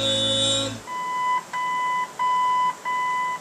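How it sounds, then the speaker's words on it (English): A steady tone gives way to a series of four electronic beeps from the original AM radio of a 1966 Ford Galaxie, each long and evenly spaced, with brief pauses between them. "It's going to beep."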